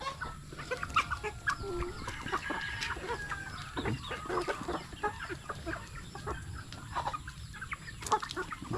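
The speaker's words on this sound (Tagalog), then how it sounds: "Oh, give food chicken." Backyard chickens cluck and chatter busily while being fed, several birds calling close by in overlapping bursts with occasional louder squawks, no talk.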